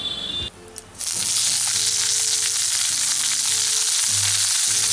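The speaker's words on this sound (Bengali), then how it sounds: "এখন এই তেলের মধ্যে এই কাঁচা আমগুলোকে আমি একটু হালকা করে ভেজে নিচ্ছি" Raw mango pieces hit hot oil after a spice tempering, setting off a loud, continuous sizzle with faint stirring scrapes underneath.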